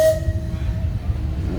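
An antique steam engine at a tractor show sounds its horn, a short tonal blast at the very start that trails off into low rumbling and hiss from the running machinery.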